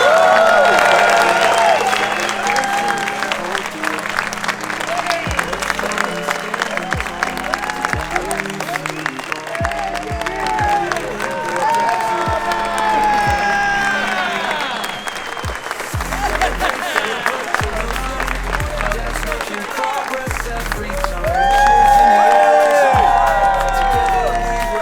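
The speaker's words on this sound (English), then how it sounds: "Thank you for your applause, but let me give you my applause." A large convention crowd of veterans in Phoenix claps and cheers for a newly elected national commander, loud sustained applause with whoops and shouts throughout.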